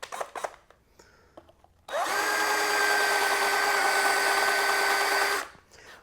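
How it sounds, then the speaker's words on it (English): A power drill with a countersink bit bores into wood, a high whirring whine that starts abruptly after a few light knocks and handling sounds, runs steadily for about three and a half seconds, then stops. "I'm just going to remove the ones I put in, and I'm using a countersink bit."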